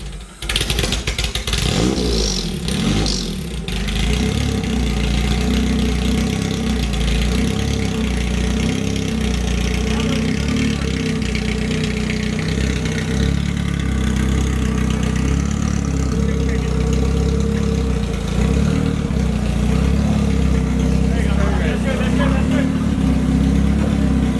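A Honda-powered street-legal buggy engine idles steadily and loudly at close range, a continuous low rumble after a brief rough start, with occasional voices in the background.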